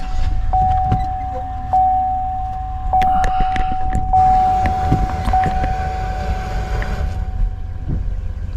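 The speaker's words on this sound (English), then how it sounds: "Let's start the truck and see if the fan still goes off" A 2014-2019 Chevy Tahoe idles with a steady low engine rumble, joined by a loud, continuous whirring radiator fan and scattered clicks and clunks nearby, with no voices.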